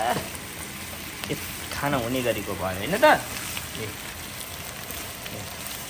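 Shrimp sizzle and crackle in a hot pan while a person talks over the frying midway through.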